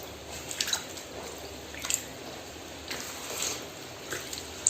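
Nylon ripstop tent fabric scrubbed by hand in citric acid water, giving soft wet squishing and sloshing with scattered drips and splashes, fairly quiet and close, with no voices.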